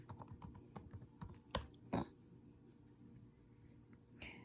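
A password is typed on a computer keyboard as a quick run of close, crisp key taps. A couple of louder clacks follow, then a pause, all quiet and alone.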